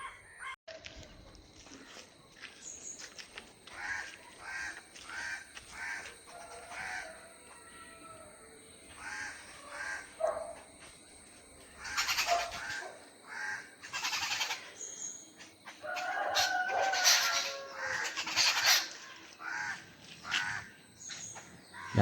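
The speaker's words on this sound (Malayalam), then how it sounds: "മൊത്തം പക്ഷികളുടെ ബഹളം" Crows caw repeatedly among many other bird calls and chirps in a home garden on a morning, fairly faint and spread out, with louder clusters of calls toward the middle and end and almost no talk.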